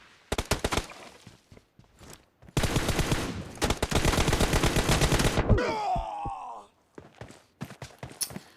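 PUBG Mobile gunfire in a team match: short rapid bursts, then a long sustained stretch of automatic fire, followed by sweeping whooshes and a few scattered single shots.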